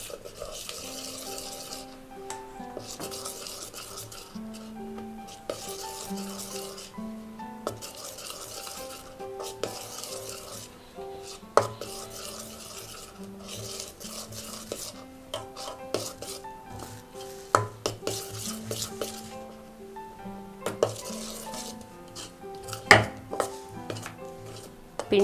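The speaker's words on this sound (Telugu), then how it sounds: "పిండి అంతా ఆ పాకంలో కలిసేలాగా కలుపుకుంటూ ఉండాలండి." Rice flour is worked into hot sugar syrup for ariselu, with steady scraping, stirring and tapping of a spoon against a pot, close and continuous, while a voice talks intermittently.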